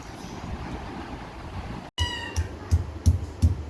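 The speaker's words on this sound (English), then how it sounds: "Cat. Meow." A cat meows one drawn-out call, then gives four short meows in quick succession, close and fairly loud after a quiet stretch.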